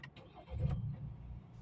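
A 2021 Ford Ranger engine is cranked and catches, a brief starter whir turning into a low, steady rumble of the running engine, heard close and fairly quiet with no talking.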